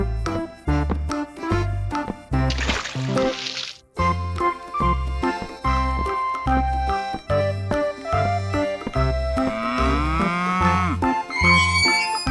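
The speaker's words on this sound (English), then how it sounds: "cow," A cartoonish cow moos over bouncy, layered music in a children's animal-transformation piece, its low call sitting inside steady rhythmic beats and bright synth tones.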